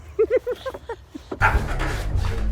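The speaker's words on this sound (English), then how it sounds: "And my dog Bella here, she agrees, right?" A dog gives a run of short, high yips and whimpers, close and loud, followed by a rougher burst of barking and scuffling noise.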